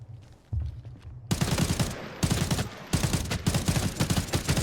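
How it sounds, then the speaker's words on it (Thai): Gunfire in the extraction shooter Arena Breakout Infinite, starting with faint distant shots, then loud close bursts in rapid repeated strings separated by brief gaps. "ถ้าค่อยๆยิงทีละนัดแบบนี้ NPC แน่นอนครับ"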